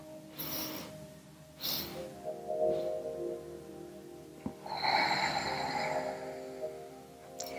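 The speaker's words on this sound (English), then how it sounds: "we're going to drink the breath in 3 sips." Loud nasal breaths drawn in three short separate pulls during yoga breathing, close and airy, with a soft hum in the background.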